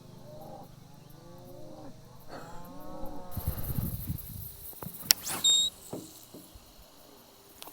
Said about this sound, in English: Probably hear the cows in the background.